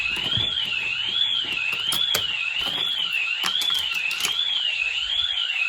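A Ring home alarm system siren goes off after a front door is opened during a test, producing a loud, steady electronic tone that warbles up and down without a break, with a few soft clicks and knocks in the background.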